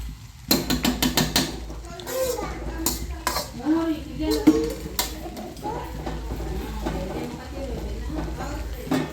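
Breakfast food being mixed in a dish with utensils at home, a rapid run of sharp metallic clinks and scrapes at the start, then scattered taps as people talk over it.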